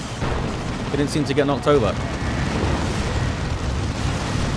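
Nuke explosions in the strategy game Dawn of War 2 rumble and crackle in a steady, dense battlefield roar, while a commentator talks over the blasts.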